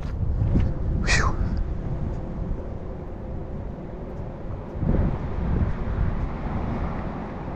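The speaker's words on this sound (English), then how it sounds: "this wind is no fun" Gusty wind buffeting the microphone on an outdoor walk with a puppy, a steady low roar with stronger bursts, along with faint passing sounds and brief heavy breaths.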